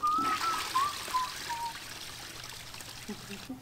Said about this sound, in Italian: Vai, vai, piscia.